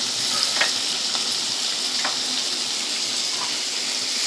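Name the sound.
chopped onion frying with ginger and garlic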